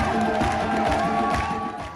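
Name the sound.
audience ovation for an actress at the curtain call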